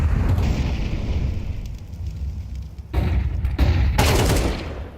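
AK rifle fire in Counter-Strike, a professional match: distant rumbling gunfire with sharper bursts near the end, loud and punchy against a steady background.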